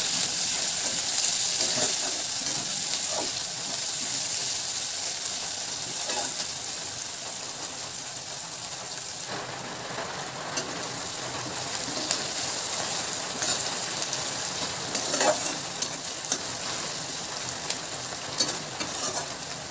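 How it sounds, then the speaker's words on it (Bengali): Chopped onion and green chilli with cumin frying in a pan, a steady close hiss and sizzle with faint crackles and a few stirring scrapes, no talk. "পেঁয়াজটা হালকা একটু ভেজে নেব।"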